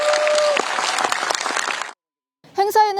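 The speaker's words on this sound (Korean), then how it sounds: "우리 격려 박수 한번 해주시면 어떻겠습니까?" A crowd applauds in a burst of dense clapping that fades into a brief silence, and then a voice begins speaking.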